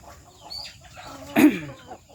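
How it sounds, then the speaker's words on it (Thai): A Burmese chicken gives a single short cluck close by, a brief throaty note standing out against quiet background rustle. "เป็นไก่พม่าครับ"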